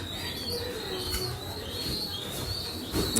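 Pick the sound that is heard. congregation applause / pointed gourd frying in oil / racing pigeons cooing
racing pigeons cooing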